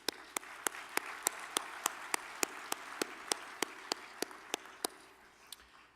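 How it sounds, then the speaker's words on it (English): Sparse applause from a conference audience in a general session, heard as about seventeen separate, evenly spaced claps across six seconds over faint room murmur, more like a few people clapping than a full crowd. "Let's give all of our sponsors a round of applause."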